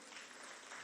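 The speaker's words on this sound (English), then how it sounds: "A round of applause for him." A brief burst of steady crowd applause greets a dignitary at a national summit on cybercrime.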